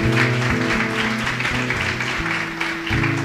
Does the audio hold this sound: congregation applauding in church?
yes